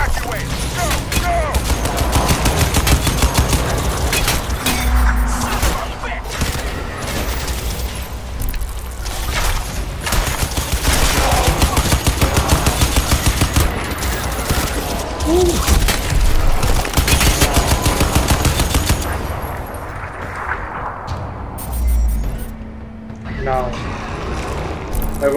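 Gunfire in the video game Crysis 2 during a street battle: dense bursts of automatic fire and booming blasts rattle on without a break, loud and close, with game voices calling out amid the shooting.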